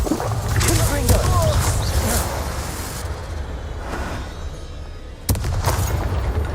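Fiery Confringo blasts from a wizard's wand in Hogwarts Legacy go off in a busy combat scene, with booming bursts rolling under shouted voices and a sharp, loud blast near the end.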